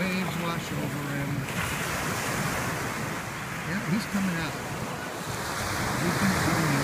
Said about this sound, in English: The waves wash over him.